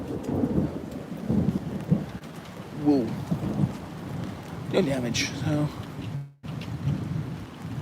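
Thunder rumbles through steady rain during Hurricane Isaias, a sharp crack following bright lightning to the northwest, with someone talking briefly over the storm.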